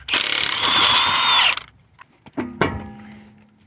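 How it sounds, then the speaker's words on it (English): A ratchet spins off a 21mm wheel nut on a 2011–2019 Toyota Sienna, a loud, dense burst of rapid ratcheting lasting about a second and a half, followed by a few separate clanks of tools and parts. "Remove the 21mm wheel nut"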